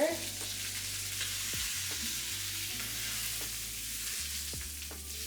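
A steak sizzles loudly in a frying pan and is flipped over partway through, with steady close frying hiss and occasional scrapes and clinks of a utensil against the pan. No one talks.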